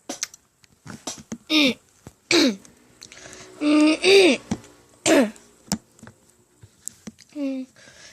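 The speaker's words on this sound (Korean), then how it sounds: "기침 소리 양해 부탁드리고요." A person coughs and clears their throat several times in short, harsh bursts, close by, with quiet pauses between.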